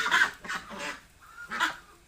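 Ducks on a village duck farm give several loud, nasal honking quacks in a few bursts, close by, with short pauses between calls.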